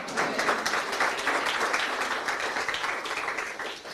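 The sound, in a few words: audience clapping loudly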